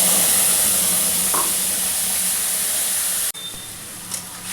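A spice paste of tomato and green chili fries in hot oil, a loud dense sizzle and hiss that cuts off sharply, then returns as a quieter steady crackle, close, with no talk.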